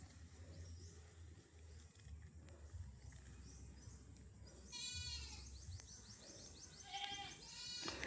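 Faint goat bleats call out a few times in the distance on a farm lot, over a steady outdoor hum and rustle.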